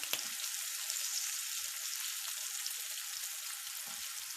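Semolina-coated prawns fry in shallow oil with a steady, dense sizzle and crackle that holds at an even level throughout, close up and without talk.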